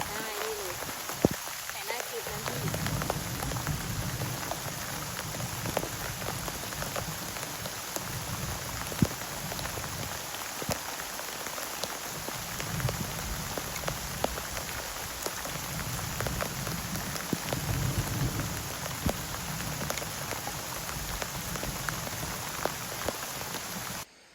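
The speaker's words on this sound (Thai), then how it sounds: "ก็คือเมื่อกี้ฝนตกหนักมาก" Heavy rain pours steadily and densely on surfaces close by, a continuous loud hiss with scattered drop impacts throughout, while a person talks at times underneath it.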